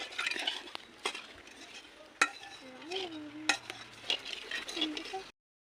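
Dried chillies and bay leaves frying in a pan, stirred with a utensil that scrapes and clinks against the metal over a faint sizzle, with tonal background sounds drifting in the distance.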